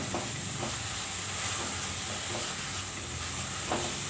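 Leafy greens fry in a pan for a dal curry, a steady broad sizzle and hiss with faint occasional stirring scrapes, quiet and continuous without talk.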